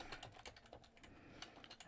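Quick typing on a computer keyboard, a run of light irregular clicks at moderate distance over a faint steady background, with no voices.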